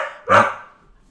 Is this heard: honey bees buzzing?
no